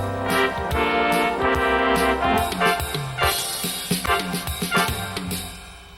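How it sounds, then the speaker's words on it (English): A drum beat plays under brassy trumpet-like melodic fills that come in short bursts, fairly close and moderately loud, with no one speaking. "a neat effect is to have your drums playing, and at the same time you do your trumpet fills."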